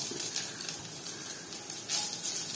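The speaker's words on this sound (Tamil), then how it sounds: "இப்ப இந்த தேங்காய் துருவலையும் நம்ம நெய்ல வதக்கிக்கலாங்க" Grated coconut sautés in ghee with a steady, close, bright sizzle and a rising burst of crackle partway through, and no voices.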